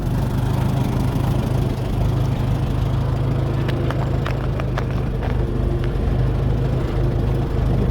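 A warmed-up tractor engine idling close by, a loud steady low rumble with an even, continuous throb for several seconds and a few faint metallic ticks over it, with no talk.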